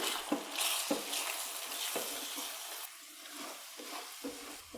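An egg with pepper fries in a pan, a soft steady sizzle interrupted by a few light scraping taps as it is flipped and stirred.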